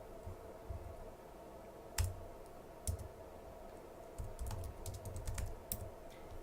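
Typing on a computer keyboard, close and quiet, with irregular clusters of light key clicks and a few sharper single taps over a low steady hum, with no talking.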